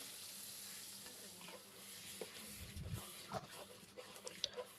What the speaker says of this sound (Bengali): কাকি তেলের মধ্যে আদা রসুনের পেস্ট গরম মশলা পরিমাণ মতো লবণ আর চাল দিয়ে দিচ্ছে এখন এটা ভালোভাবে ভেজে নেবে